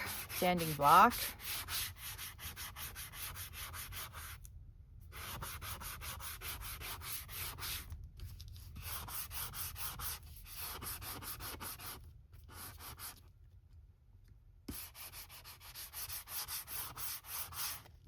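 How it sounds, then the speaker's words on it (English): Rhythmic back-and-forth sanding by hand, rapid scratchy strokes in bursts separated by brief pauses. "now we got to get out our handy dandy little sanding block"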